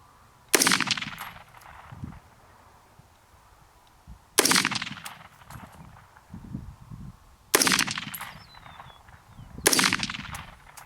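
Four single AR-15 rifle shots after a trigger job with a lighter hammer spring, each a loud sharp crack with a ringing tail, spaced a few seconds apart outdoors.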